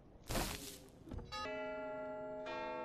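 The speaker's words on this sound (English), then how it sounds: "Please ring bell." In the horror game Curse of Dreadbear a dull thump sounds, then a second knock, and then a bell strikes loudly with a ringing metallic tone that holds steady and is struck again near the end.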